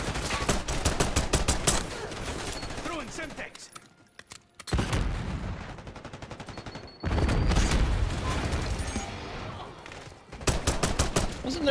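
A PM Makarov pistol fires in Call of Duty: Black Ops 6, loud rapid strings of sharp shots broken by two short quiet gaps, then a final burst close up.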